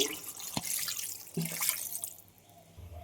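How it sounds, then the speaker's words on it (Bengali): Water is poured into a pan of rohu fish dopiaza with browned onion and tomato masala, a broad splashing pour running for about two seconds with a couple of sharp drips, then trailing off into quieter bubbling. "এবার দিয়ে দেবো জল"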